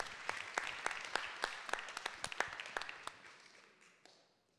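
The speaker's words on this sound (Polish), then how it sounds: "Ogromne brawa dla pani Anny." Applause in a hall for an award recipient at a ceremony: many hands clapping with sharp individual claps, fairly distant and gradually fading out over several seconds.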